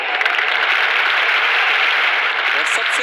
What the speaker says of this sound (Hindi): प्लीज जोरदार तालियों के साथ स्वागत कीजिए डॉक्टर अब्राहम ली का।